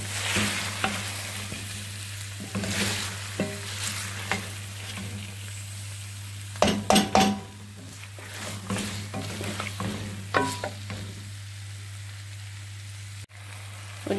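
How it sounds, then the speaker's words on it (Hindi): Chicken and cut potatoes fry in a pot with a quiet continuous sizzle, broken by repeated scraping stirs and clinks of a spoon against the metal, some of them sharp and close. "और ये देखिए 5 मिनट हो गया हमें आलू डाल के चिकन को भूनते हुए।"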